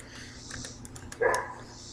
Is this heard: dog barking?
yes